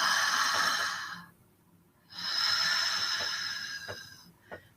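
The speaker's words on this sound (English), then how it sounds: "breathing in through the mouth, breathing and exhaling out through the mouth" Two long, airy breaths drawn in and let out through the mouth, close and soft, with a quiet pause between them and a faint click near the end.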